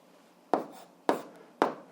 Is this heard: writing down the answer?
yes